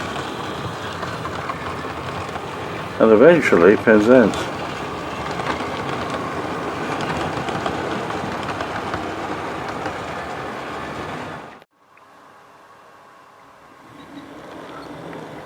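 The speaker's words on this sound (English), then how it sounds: "Western train is now leaving the junction, heading south" Great Western steam train pulling out of a railway junction heading south, a steady rumble of rolling carriages and wheels on track under faint distant talk, with a short louder burst early on before the noise drops away near the end.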